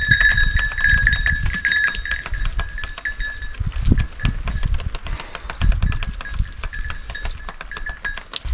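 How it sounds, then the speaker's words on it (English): Goats on a farm bleat close by in repeated calls, with a higher animal cry and scattered rustles, knocks and hoof-like clatter around them. "I'm not in the mood for chasing around goats"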